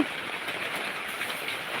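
Rain falling outdoors during glass sorting in Thailand, a steady soft hiss of drops pattering on surfaces at moderate distance, even and continuous with no voices.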